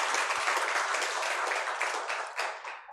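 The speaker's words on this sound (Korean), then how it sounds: "우리 하나님께 영광의 박수 올려드리겠습니다." A church congregation at a Sunday worship service claps in praise, a short burst of brisk, fairly close applause that stays even and ends abruptly.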